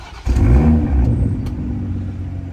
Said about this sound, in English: Maybe I'll give it a cold start right here.